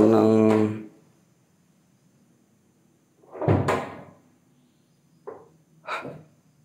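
A door in an abandoned building in Bekasi gives a loud bang and creaking rattle, followed by two shorter knocks. Someone speaks before it, and the empty rooms are otherwise quiet.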